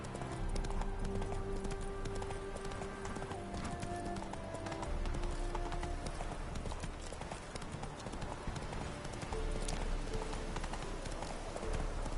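In the video game Witcher 3, the horse's hooves beat out a steady, continuous clip-clop as it gallops, set in a dense game soundscape with a background music bed. No voices are heard.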